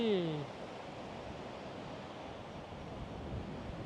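Broadband rushing noise of surf and strong gusting wind at night on Hua Hin beach buffets the microphone steadily, after a brief voice-like sound at the very start.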